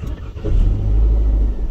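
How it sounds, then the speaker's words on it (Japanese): A Nissan Serena C27 engine catches after a push-button start, settling into a steady low idle rumble close by, with no voices over it. "エンジンをかけることができましたね"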